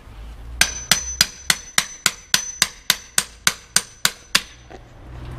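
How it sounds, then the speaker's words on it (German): A hammer strikes about thirteen times in a steady, even rhythm, each blow a sharp, loud crack with a brief ring and nothing else around it. "Das ist der beste Hammer, den es gibt."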